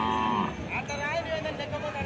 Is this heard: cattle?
yes